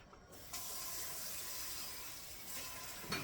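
Water pours steadily from a kitchen tap into a cup for a few seconds, a continuous close rushing hiss with a slight change in tone near the end.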